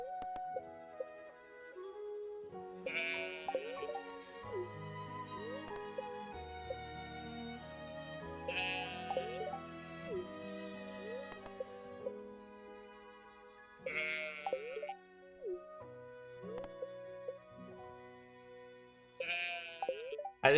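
Sheep in Stardew Valley bleat in repeated short calls every few seconds over soft game music with light chimes, clear and fairly quiet.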